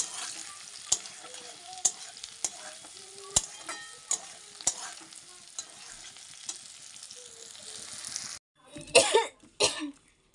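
Onion and potato fry in a pan on a home stove, a steady soft sizzle broken by sharp utensil taps and stirring scrapes, then a louder burst of clatter near the end.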